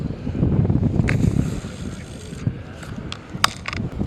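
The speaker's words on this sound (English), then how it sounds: "Now I got the wind to my back." Wind blows at a lake during trout fishing, a steady low rumble of gusts against the microphone with faint clicks and rustles over it.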